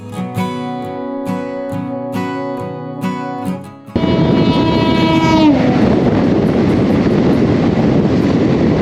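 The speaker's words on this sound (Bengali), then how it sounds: "ট্রেন আমাদের বোলপুরে পৌঁছে গেছে" The Kanchenjunga Express 13173, running from Burdwan toward Guwahati near Bolpur, sounds its horn in several blasts. Then a loud, steady rumble of the carriages rolling on the rails takes over, close by and with no talk.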